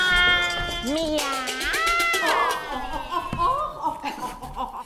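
Several people mimic cat meows in a German stage play, a chorus of drawn-out, wavering mewing voices, loud and close, overlapping with one another, with a little laughter mixed in.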